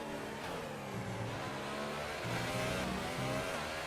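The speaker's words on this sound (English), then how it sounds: "you'll be able to hear the short shifting, just trying to look after these tyres" Race car engine in a racing video game, short shifting to spare the tyres, holding a steady mid-pitched drone that rises and dips slightly with gear changes, faint and continuous without speech.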